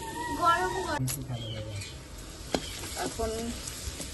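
Papad frying in hot oil gives a steady crackling sizzle, with a clearer pop near the middle, running under tonal voice-like sounds in a home kitchen.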